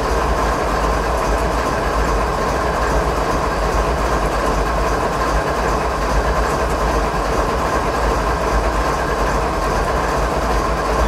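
A train running in the Train Sim 2015 video game gives a steady, continuous rumbling roll with faint rhythmic clatter, loud and unbroken throughout, with no talking.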